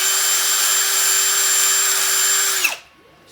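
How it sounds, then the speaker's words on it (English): A power drill spins a bit through a part during a PVS-14 night vision build, a loud steady high whine that winds down and stops near the end. "Just sub the drill bit through this other one."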